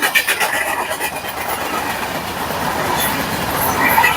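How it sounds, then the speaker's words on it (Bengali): A long train rushes past close by in rural Egypt, a steady loud roar with rapid rhythmic clatter of wheels on the rails. "মিশরের ট্রেনটা খুব দ্রুত গতিতে যাচ্ছে এবং অনেক লম্বা"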